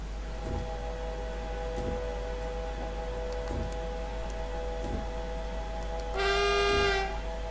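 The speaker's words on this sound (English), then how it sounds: "That is one weird horn, can I just say." An S-Bahn train horn in Train Simulator sounds once near the end, a loud, bright multi-tone blast of about a second, following several seconds of steady low engine hum with faint periodic clunks.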